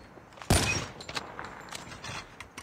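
Gunfire in the mobile shooter Call of Duty Mobile: one loud, sharp shot bursts near the start and fades, followed by softer scattered shots and clatter over about two seconds, with no talk.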